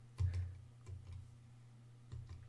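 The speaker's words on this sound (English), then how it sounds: "Now, as I press the various keys," Computer keyboard keys pressed a few at a time, giving sparse soft clicks in a quiet room, part of setting up a Twitch Switch controller.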